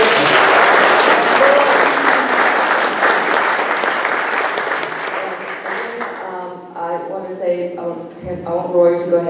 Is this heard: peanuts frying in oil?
no